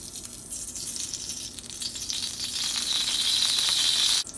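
Cooking oil poured into a hot pan while preparing chilli chicken gives a steady, close hiss and sizzle that builds slightly over a few seconds before stopping abruptly, with no talking.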